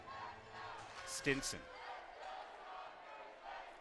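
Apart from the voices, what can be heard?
San Diego Sockers fans cheering in arena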